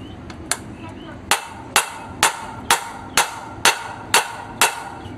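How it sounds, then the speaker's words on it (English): Nine or so sharp metal hammer strikes on a universal joint of a 2003 Chevy Avalanche drive shaft ring out at a steady pace, loud and close, with a faint background hum between blows. "I think I'm gonna have to use the regular hammer."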